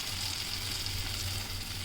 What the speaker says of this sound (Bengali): পেঁপেটা দিয়ে আরও 2-3 মিনিট একটু কষিয়ে নেবেন